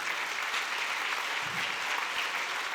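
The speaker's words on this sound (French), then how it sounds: "on peut les applaudir." Audience applause at an agricultural education awards ceremony: a steady, even wash of clapping, somewhat distant and moderately loud, lasting the whole short moment without talk.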